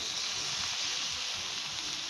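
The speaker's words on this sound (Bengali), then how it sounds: "এবার আমরা দিয়ে দিচ্ছি চিকেনটা।" Steady, even sizzle of chicken hitting hot fried spices in a pan, a continuous bright frying hiss with no talking over it.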